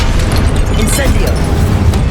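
A fire spell cast in the Hogwarts Legacy video game bursts out in a dense, roaring whoosh with a low rumbling body, steady and loud throughout, amid a busy mix of combat effects.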